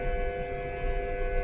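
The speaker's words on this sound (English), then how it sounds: "Now this is a sine wave, so it's going to be monotone." A 100 hertz sine wave plays through a loudspeaker in a physics classroom, a steady, unbroken monotone hum with buzzy overtones that holds at the same level throughout.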